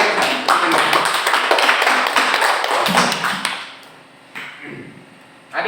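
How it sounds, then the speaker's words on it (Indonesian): Children clap their hands together in a classroom, a dense burst of many quick overlapping claps that thins and fades out toward the end, with a few scattered late claps. "Tepuk tangan dulu untuk kalian semua."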